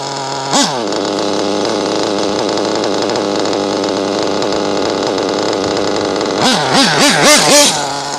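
Tekno RC car with a modded RB Pico nitro engine revving near and loud, a sharp blip early then a steady high buzzing drone, ending in several rapid rising-and-falling throttle revs.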